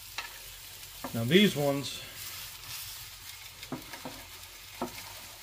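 Stuffed cheddar bratwursts sizzling on a Blackstone griddle, a faint steady fry close by with a few light scrapes as they are rolled, while someone speaks briefly over it.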